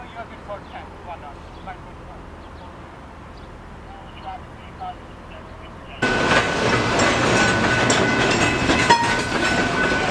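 Canadian Pacific train passing the 4th Avenue grade crossing, quiet rumble at first, then a sudden loud steady roar of rail cars rolling close by for the rest.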